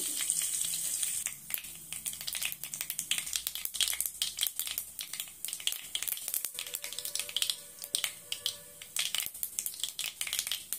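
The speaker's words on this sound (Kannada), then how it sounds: "ಸಾಸಿವೆ ಹಾಕ್ತಾ ಇದ್ದೀನಿ, ಜೀರಿಗೆ" Mustard seeds and cumin sizzle and crackle in hot oil in a kadai, a dense run of sharp popping bursts over a steady frying hiss, close and moderately loud.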